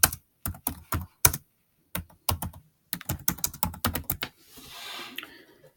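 Bursts of quick keystrokes on a computer keyboard tap out a search query, close and clear, in short clusters separated by pauses, ending with a faint rustle.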